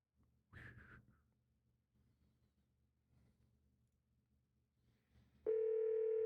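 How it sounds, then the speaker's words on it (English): In the video game Scarlet Hollow, a phone dials with a brief electronic tone, then after a quiet pause a steady, loud ringing tone starts and holds to the end. "You pull out your phone and dial your cousin."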